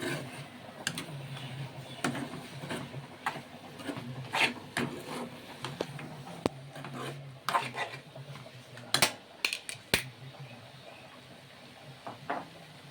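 A spoon scrapes and knocks against a pan while a ground coconut and turmeric paste is mixed into anchovy thoran, giving irregular close clinks and rubbing scrapes with quiet pauses between and no voices.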